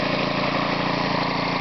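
An air compressor driven by a lawnmower engine runs steadily with a continuous, even engine drone at moderate revs, close by and alone.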